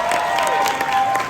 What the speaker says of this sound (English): thank you for clapping for all of my names.